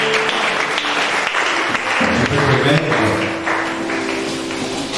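A church congregation breaks into applause for the word of God, a dense, steady clapping that fills the space with a voice and faint tapping mixed in.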